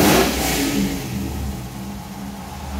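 A 1956 Chevy Nomad on an Art Morrison chassis fires up its LS3 engine for the first time, revving loudly up front then settling into a steadier, slightly quieter running rumble.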